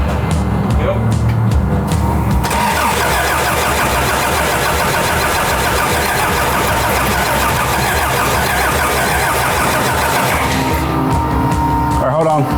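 A Toyota minitruck engine cranks and then catches, running loudly and continuously at close range for most of the stretch before the sound drops away near the end.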